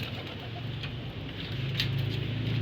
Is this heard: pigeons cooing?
yes